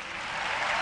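A conference audience applauds, a brief, even burst of many hands clapping at moderate loudness without voices.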